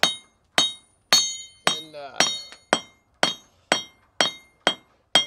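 A blacksmith hammers steel at a forge fired with bio-char, striking in a steady rhythm of about eleven loud, ringing metallic blows with short decays between them.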